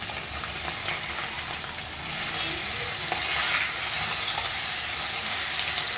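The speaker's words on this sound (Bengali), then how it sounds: "এবার এই পিঠটাকেও একটু লাল করে ভেজে নেব।" Fish frying in hot oil, a continuous crackling sizzle that swells a little louder partway through and holds steady, close up with no voices.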